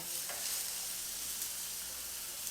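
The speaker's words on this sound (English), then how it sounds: "You can see my onions that are sauteing in the back." Onions sautéing with an all-purpose barbecue rub from Victory Lane Barbecue, a faint, even hiss of frying heard from some distance, steady and uninterrupted with no talking.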